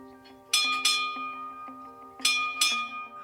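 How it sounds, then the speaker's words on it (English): A ship's dinner bell rings on deck, struck in four clear bright clangs in two pairs, each leaving a long shimmering ring that decays slowly between strikes. "I'm seeing the bell that we use to call people to dinner."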